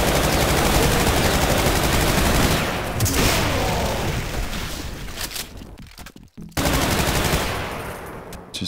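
Sustained automatic gunfire from a machine gun fitted with a grenade launcher in Brutal Doom, loud and dense for about three seconds, then continuing more raggedly with brief gaps before another heavy burst near the end.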